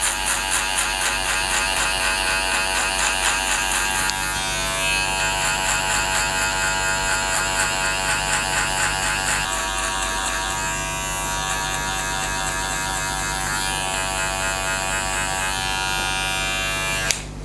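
Electric hair clippers fitted with a number 2 metal guard buzz steadily and close up while setting a skin fade foundation, a continuous motor whine that shifts slightly in pitch as the blade moves through hair.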